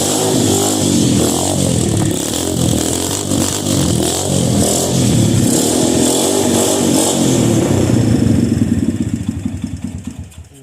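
Small motor vehicle engine running and revving in uneven bursts, loud and close with a rough buzzing tone, then fading as it dies.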